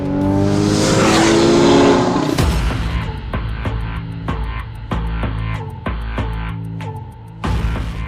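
A 2012 Porsche 911 (991) with its 3.8-liter engine and sport exhaust, valves open, screams loudly up through the revs, then snaps into a gear change and pulls again, with crisp pops and crackles on the overrun.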